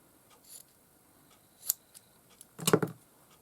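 Scissors snip through polka dot fabric in a few short, quiet cuts, then one louder crisp snip close by, with no talking.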